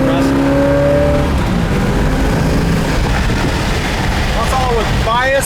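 The big 406 V8 in a 1963 Ford Galaxie 500 runs loudly on the road, a heavy, deep rumble that fills the whole stretch, with rising whistling tones near the end and voices underneath.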